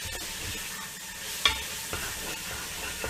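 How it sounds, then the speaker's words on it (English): Steady sizzling of satay meat frying in oil in a pan, with occasional clinks of stirring, close by and without speech. "So again, we're frying this up."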